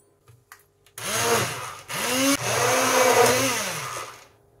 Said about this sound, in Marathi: रवीने किंवा हँड ब्लेंडरने आपण थोडंसं मिक्स करून घेऊया